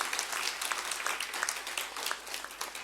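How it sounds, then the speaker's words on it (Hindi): Audience applause in Nagpur welcoming achievers at a ceremony: a soft, steady wash of many hands clapping together, somewhat distant and unbroken. "आप उनका बहुत जोरदार तालियों से स्वागत करें"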